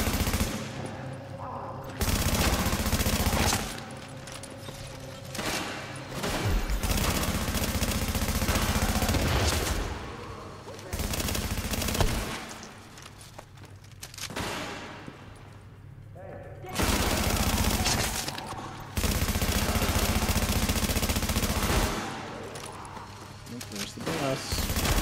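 Dense shotgun and weapon fire from a boss fight in The Division Resistance keeps rolling loudly and nearly continuously, dropping briefly between heavy volleys, with a game soundtrack and effects layered underneath.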